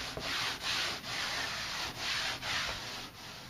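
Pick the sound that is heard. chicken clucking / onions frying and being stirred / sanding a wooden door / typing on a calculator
sanding a wooden door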